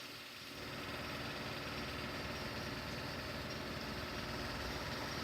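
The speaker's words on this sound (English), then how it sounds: "So that's the compressor up there." A tire shop air compressor runs while a bead seater seats a tire bead, giving a steady, fairly loud mechanical drone that starts up in the first second and holds constant.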